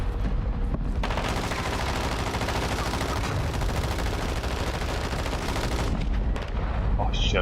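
Sustained, heavy gunfire and explosive rumble from a shooter video game on a PS5, loud and continuous for several seconds before cutting off abruptly near the end.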